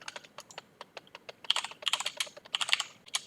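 Quick bursts of keystrokes on a computer keyboard as a command is typed, irregular clicking taps close up and fairly quiet, with no voices.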